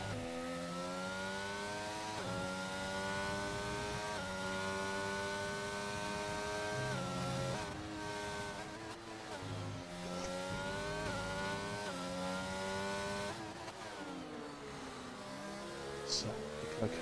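Race cars lapping Imola in a racing video game, a steady, high, whining engine drone with shifting pitch as gears change, loud and continuous throughout, with a commentator talking faintly underneath.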